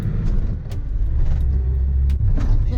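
A camper van truck drives on a road toward Prague, a loud steady engine and tyre rumble with a few brief higher swishes of passing traffic, no talk.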